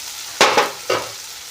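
Cumin seeds frying in a pan while being stirred, for a cauliflower and potato dish; three short broadband scrapes and sizzle bursts in quick succession, close and fairly loud, with no talk.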